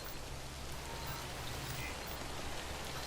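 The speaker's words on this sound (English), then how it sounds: "Man, when will it stop raining?" Steady rain falls throughout in a video game, a dense, even hiss of raindrops with no pauses, fairly quiet and heard alone.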